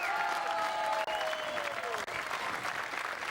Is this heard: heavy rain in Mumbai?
no